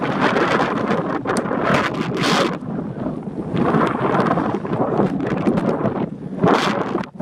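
Strong wind blowing across an open valley in Nevada, heavy gusts battering the microphone in loud rumbling surges that rise and fall, with no voices heard.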